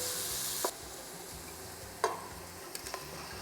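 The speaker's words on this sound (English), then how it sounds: "then we add the seasoned Geera meat" Seasoned geera pork hits a hot pot and sizzles steadily and fairly faintly, with a few sharp knocks and clatters of a spoon or pot along the way.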